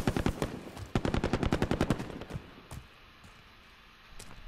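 Rapid bursts of automatic gunfire in Call of Duty Warzone, loud and close, with a longer stream of shots that stops, then quieter scattered shots over a low background.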